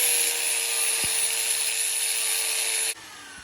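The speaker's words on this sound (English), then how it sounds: "We got a flap disc, an angle grinder. Let's put it to work." Angle grinder fitted with a flap disc grinds worn brake rotors during a Civic 5-lug conversion, a loud steady high-pitched whine that runs unbroken for about three seconds before cutting off abruptly.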